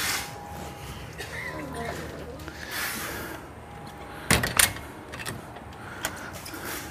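Door being pushed shut in a garage with interlocking floor tiles, giving a quiet pair of sharp knocks midway through a faint, low background.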